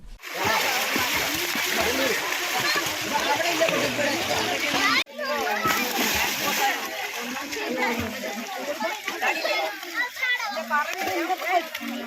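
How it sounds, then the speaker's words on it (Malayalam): Continuous splashing and churning water as children swim during lessons in a village pond, with kids' voices and shouts mixed in throughout. "ഹസീനയുടെ നേതൃത്വത്തിൽ നീന്തൽ പരിശീലനത്തിന് പത്രിപ്പാല തിഞ്ചിരിക്കുളത്തിൽ തുടക്കമായി"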